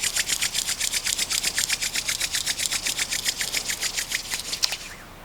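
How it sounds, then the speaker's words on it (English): Palms rub briskly together, close and clear, in a fast steady back-and-forth rhythm of about twenty strokes that slows and fades out at the end. "Bring your hands together at your heart center,"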